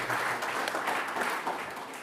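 Audience applause at a public talk marking a prominent 80th birthday: a steady, even wash of many hands clapping, moderately loud and alone, holding level for two seconds.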